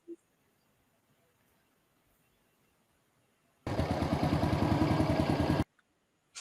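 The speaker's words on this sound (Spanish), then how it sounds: "escuchen el sonido de la moto" A motorcycle engine fitted with a homemade CDI ignition unit runs loudly for about two seconds with a rapid, steady pulsing roar, then cuts off abruptly into near silence.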